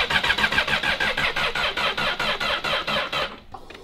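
A Yamaha R6 motorcycle's starter cranking on a drained battery, with a steady rapid chugging turnover that never catches and stops after about three seconds; close and loud.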